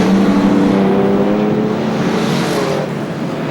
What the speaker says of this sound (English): There's the lead car coming around the outside of one of the slower ones.